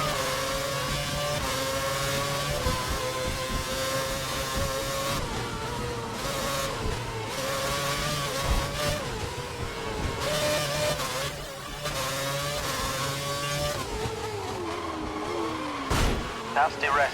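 Simulated Formula 1 car at Monaco in a racing video game, a high revving engine shifting pitch through corners, with a brief tyre squeal from a lock-up near the end while a voice narrates over it.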